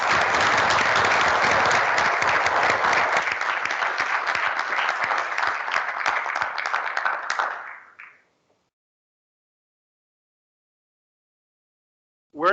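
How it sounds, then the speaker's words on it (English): Audience applause for the panelists at a conference, dense steady clapping from a large crowd that carries on for about eight seconds, then fades out quickly into silence. "Let's give a round of applause to the panelists"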